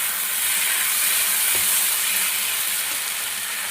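Crushed pea-lentil fritter pieces fry with pointed gourd shoots in a pan, a dense, steady, hissing sizzle heard close and loud, almost unbroken throughout.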